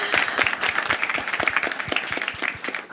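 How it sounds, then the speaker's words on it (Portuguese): A studio audience at a TV Câmara talk program applauding, a dense steady patter of many hands clapping at close range, with no talk over it. "Quem quiser aplaudir aí,"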